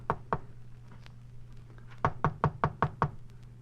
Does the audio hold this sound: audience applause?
no